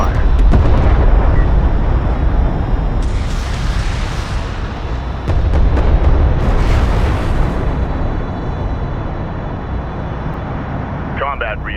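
Sustained weapons fire and heavy explosions from a desert battle in Homeworld: Deserts of Kharak, a dense, loud roar of booms and rumbling blasts with brief sharp bursts, some voice chatter running beneath.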